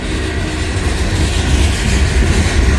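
A train rumbles steadily past on the tracks in a village, loud and close, a continuous heavy roar with a faint rhythmic clatter from the wheels and no pauses.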